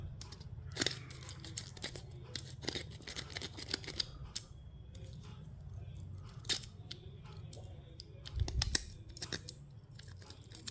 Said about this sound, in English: We can remove this cover.